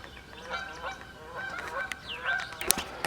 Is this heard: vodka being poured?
no